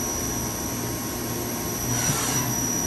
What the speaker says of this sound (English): You hear the table move left to right, in and out.